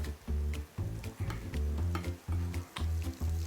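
Shrimp and spaghetti sizzle in a frying pan and are tossed with a utensil. Rhythmic scraping and stirring bursts repeat close up, with sharp clicks of metal against the pan between them.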